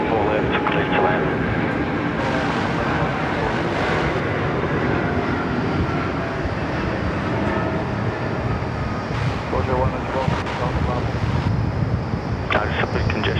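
An airliner lands on runway 34 left at Sydney Airport, heard from the control tower as a steady, broad roar of engine and rushing air with wind buffeting the microphone throughout.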